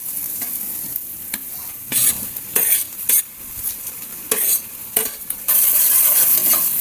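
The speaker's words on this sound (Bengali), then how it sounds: "পেঁয়াজগুলো একটু হালকা হালকা ভাজা ভাজা হতে হবে।" Onions and garlic fry in hot mustard oil with a crackling sizzle, broken by repeated scraping stirs and metal spoon clatter against the pan, close and fairly loud.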